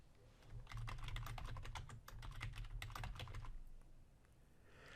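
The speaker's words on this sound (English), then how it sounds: "And I'm going to set a password for Bob Ross" Quiet, rapid keystrokes on a computer keyboard as a password is entered for a new Windows Server user account: a run of soft clicks over about three seconds, then stillness.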